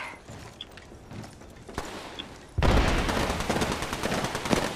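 Gunfire in the video game Apex Legends: a quiet stretch with faint game sounds gives way to a loud, sustained burst of rapid shots that continues to the end.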